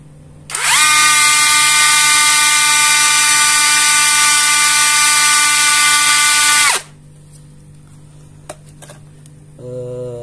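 A Modern M65 impact wrench spins up with a loud, steady high-pitched whine for about six seconds, then cuts off, leaving quiet with a few faint clicks.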